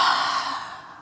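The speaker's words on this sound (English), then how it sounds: "Exhale loudly" One long, loud breathy exhale during yoga breathing, fading away steadily over about a second, with no talking.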